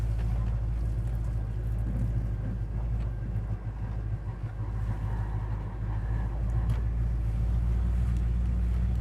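A 1970 Chevrolet El Camino rolls down the road with a steady low engine rumble and road noise heard from inside the cab, continuous and fairly loud with no talking.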